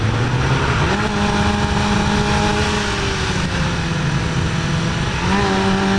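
Driving a car on a Southern California road, with a loud continuous rush of wind noise over a steady engine drone that shifts pitch as the car slows, and no talk.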